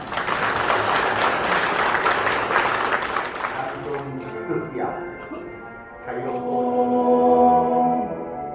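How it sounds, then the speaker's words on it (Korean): Audience applause at a political party regional committee launch ceremony, dense and loud for about four seconds, then thinning into scattered claps as a voice begins speaking over a faint hum. "참석해 주신 전남연합회 의원님들의 힘찬 박수로 발대식의 문을 열겠습니다"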